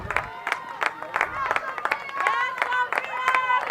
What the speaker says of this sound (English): A lot of people cheering.